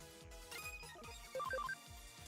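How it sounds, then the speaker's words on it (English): A phone ringtone plays a quick run of bright electronic beeps over a looping game soundtrack from Digimon Story: Cyber Sleuth - Hacker's Memory. "you don't need to hear the loud phone"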